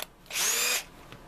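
Drill Doctor sharpener grinding a drill bit, a single burst of high whining grind lasting about half a second between quiet stretches, fairly close.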